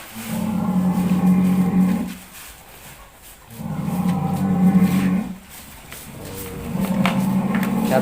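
Cattle on a cattle farm give three long, loud, close moos separated by short pauses, with no one talking.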